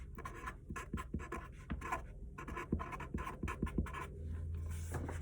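Pencil or pen writing a heading across paper, a steady run of short scratchy strokes with brief pauses between letters, close and fairly quiet, with no talking.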